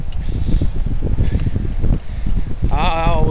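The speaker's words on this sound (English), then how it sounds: "going straight into the teeth of the wind" Strong wind buffets the microphone on a golf course in Pleasanton, a steady low rumble of gusts lasting throughout, with a faint voice rising near the end.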